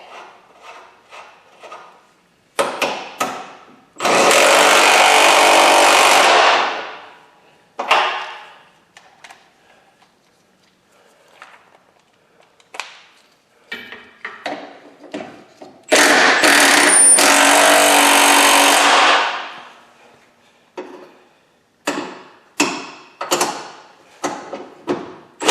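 Impact wrench driving car subframe bolts tight in a garage: two loud, sustained rattling bursts of about two to three seconds each, separated by lighter clanks and handling knocks.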